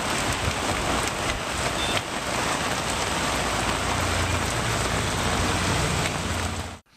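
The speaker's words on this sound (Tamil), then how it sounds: "மழை பெய்தது." Heavy, windy rain pours in Tamil Nadu around Thanjavur, a loud, dense, continuous hiss of drops striking surfaces that holds steady before cutting off abruptly at the end.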